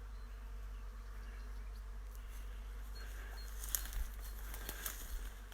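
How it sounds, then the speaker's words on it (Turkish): A soft, steady hum of bees working a white cherry orchard in bloom, continuous and fairly faint, with a few light ticks and rustles near the end. "arı seslerinin uğultusu"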